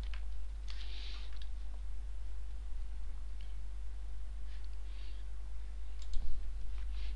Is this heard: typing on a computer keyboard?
yes